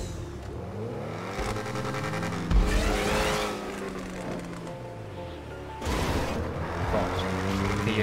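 Tires squeal in a skid from a car in the GTA V racing game, layered over a continuous revving engine, loud and close throughout with a brief surge midway and again near the end.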